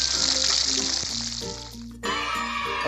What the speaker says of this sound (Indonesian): di sini saya goreng ikan gembung rebus